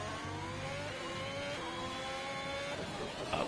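A race car engine in a sim racing game drones and drops in pitch through a hard braking zone in Spain, with steady engine tones shifting down as it slows, continuous and fairly close.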